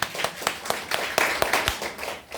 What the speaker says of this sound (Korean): 박수 한번 줘야 됩니다.